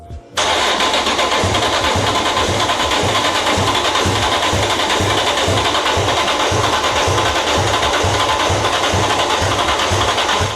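A newly assembled engine in a BMW E46 M3 drift car cranks over and over in a steady, rhythmic churn for about ten seconds without catching, loud and close.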